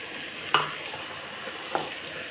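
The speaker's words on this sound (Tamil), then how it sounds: "காஷ்மீர் சில்லி பவுடர் போட்டுக்கிறேன். இப்போது வதக்கிக்கிடலாம்." Tomatoes with Kashmiri chilli powder sautéing in a pan, a soft, steady frying hiss with two brief spoon clinks as they are stirred.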